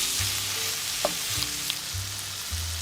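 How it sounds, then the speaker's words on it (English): Sliced sausages fry over medium heat in a pan, giving a constant close sizzle and crackle with a few brief stirring knocks and scrapes. "Put the sliced sausages into the pan. Cook for about 5 minutes over medium heat."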